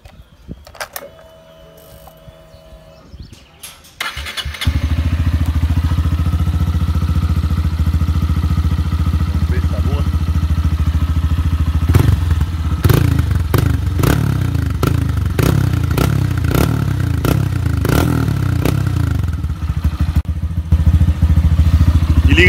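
Motorcycle fitted with a Fortuna aftermarket exhaust starts up after a quiet moment, then idles loudly and close, with a run of sharp repeated revs in the middle before settling back to a rough steady idle.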